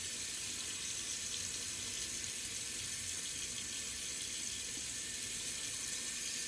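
Cold water runs steadily from a tap in a continuous, even hiss that stays at the same level throughout, with no other sounds over it.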